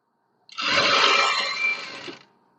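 A sewing machine stitches over lace while a kameez is being altered: a single close, steady run of stitching lasting under two seconds, starting abruptly and tapering off.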